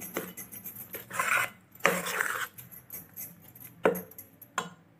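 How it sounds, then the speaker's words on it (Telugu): Henna hair dye ingredients are stirred in a bowl, giving a series of scraping, clinking strokes of a spoon against the bowl in irregular bursts, fairly close and moderately quiet. "ఇది ఇప్పుడు మనము మొత్తం అంటే మిక్స్ చేసేయాలి"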